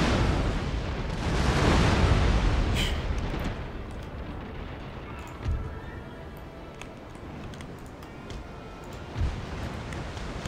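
Naval cannon broadsides in the video game Empire Total War, a heavy rumbling boom that rolls and fades, followed by scattered distant cannon thuds.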